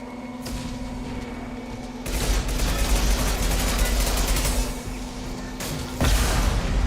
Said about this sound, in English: I can't use an assault rifle.